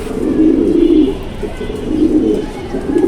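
Close, loud cooing from pigeons kept for pairing, including a cock bird, in repeated swelling bursts of throaty rolling calls.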